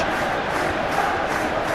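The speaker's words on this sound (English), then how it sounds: "it certainly got the crowd going" A dense, constant roar of a football stadium crowd cheering during a Premier League match between Everton and Chelsea in the PES 21 video game, heard alone with no voices.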